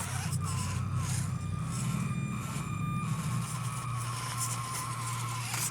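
SCX24 RC crawler on Proline Super Swamper tires climbs under throttle, a steady high electric motor whine with wavering pitch and tire scrabble, close and continuous throughout.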